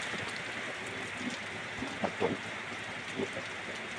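Heavy morning rain pours onto a roof in Wang Nam Khiao, Thailand, a dense, steady hiss with a few louder drips and patters standing out.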